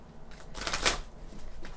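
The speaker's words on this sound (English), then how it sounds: "slippery, slippery cards. One second. I'll try and shuffle these old school." A short riffling rush of slippery, old tarot cards being shuffled, close up and soft, peaking briefly in the middle.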